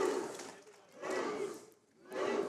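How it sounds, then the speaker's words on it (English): A wrestling crowd in Pensacola roars for Moose during a CWF Championship match, the cheering and shouting swelling in three loud waves with brief dips between them. "Seems the Moose is getting the crowd hyped."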